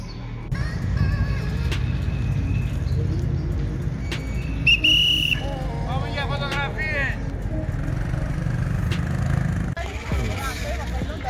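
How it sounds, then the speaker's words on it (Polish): A park attendant in a park in Athens blows a whistle to clear visitors out, giving a short shrill blast over steady traffic rumble, with birds chirping and people talking nearby. "Pani w czerwonym wdzianku chodzi z gwizdkiem i wyprasza wszystkich z parku."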